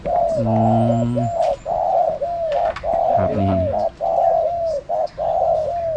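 Spotted dove, a father's trained decoy bird, gives repeated rhythmic coos with short pauses between phrases, close and clear, over faint background noise, with a brief word spoken near the middle.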